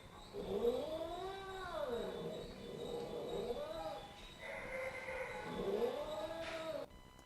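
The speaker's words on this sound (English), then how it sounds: "if you aren't really in tune with cat behavior and stuff, his vocalization doesn't sound good" A shelter cat yowls in long, drawn-out caterwauling cries, three rising-and-falling wails in a row, close and fairly loud, answering dogs nearby.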